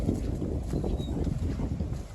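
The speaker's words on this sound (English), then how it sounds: "but it is really windy" Strong wind buffets the microphone in a continuous roaring rush outdoors at a goat farm, gusting unevenly without pause.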